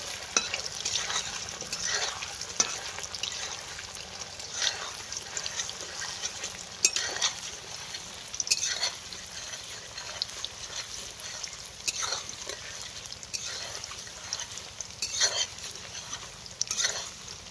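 Paneer fries in hot oil, not deep-fried, with a continuous bubbling sizzle. Scattered spatula scrapes and taps break through it at intervals.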